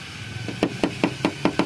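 Knuckle knocks on the metal body panel of a 2015 Toyota Agya G manual, six evenly spaced hollow taps close by, ringing lightly on the sheet steel against a quiet background.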